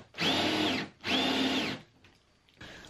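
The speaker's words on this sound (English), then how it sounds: "if I drill out using this Forstner bit, then I can chisel out the edges and get a nice smooth place" A power drill with a Forstner bit boring into cherry wood, two loud whining bursts in quick succession, each rising and then easing off, followed by a quieter third start.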